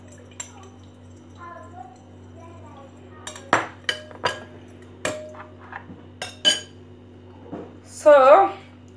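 A spoon stirs an under-eye oil mixture in a small dish, giving scattered light clinks and taps against the dish in a quiet room, with a brief vocal sound near the end.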